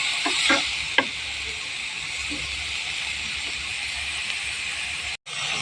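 Red cabbage sizzles and hisses steadily in a frying pan as it is stirred, with a few soft scraping knocks near the start and a brief cut near the end.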